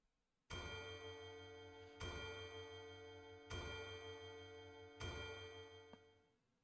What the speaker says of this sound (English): The chiming of the clock rings out loudly.